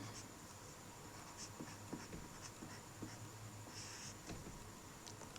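Chalk or a marker scratches and taps steadily across a board during a physics lesson on electric charge and field, fairly faint over room noise with no talk.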